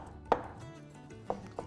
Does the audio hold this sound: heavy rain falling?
no